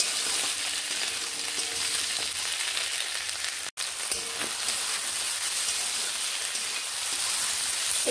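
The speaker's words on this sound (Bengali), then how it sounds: "এবার টমেটো আলুগুলোকে একসঙ্গে এইভাবে ভেজে নিচ্ছি" Tomatoes and potatoes fry together in a pan with a constant crackling sizzle like light rain, steady and close, broken by one brief sharp click partway through.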